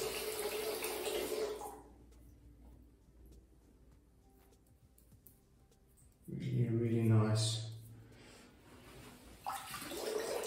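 Tap water runs and splashes at a sink while a face is rinsed after a shave, loud at the start, fading, then returning with close splashing and a brief voice partway through.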